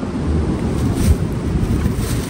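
Strong gusts buffet an outdoor microphone, producing a continuous, loud low rumble with no speech over it.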